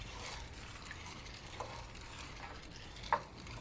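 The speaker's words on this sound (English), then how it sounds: "Give it a stir" A spoon slowly stirs a pot of Jamaican hominy corn porridge with a cinnamon stick. It makes a faint, low, continuous swish with one brief knock near the end.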